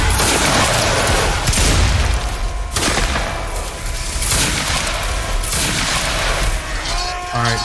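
Volleys of massed musket fire at a Waterloo battle reenactment in Naples, loud rolling booms and crackling reports that repeat in rough waves over several seconds, with voices calling out among them.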